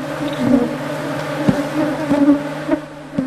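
Honey bees hum continuously at an apiary set among reforested areas. The dense buzzing has individual insects swelling past nearby, and no one speaks.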